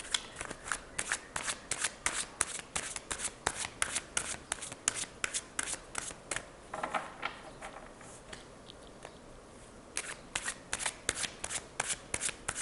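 A tarot deck being shuffled by hand in a quiet room, a long run of quick, crisp riffling card flutters in a steady rhythm with a brief softer lull midway.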